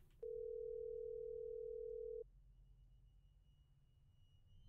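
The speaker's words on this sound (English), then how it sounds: "Come on, boss, pick up the phone." A telephone in a horror video game gives a steady, clear dial tone lasting about two seconds. The tone then cuts off, leaving a faint low hum with no voices.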